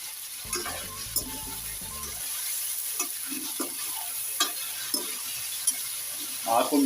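Chicken for white karahi frying in a pan over medium heat, a steady hiss throughout with a spoon scraping and stirring in repeated irregular strokes, close and moderately loud, no talk.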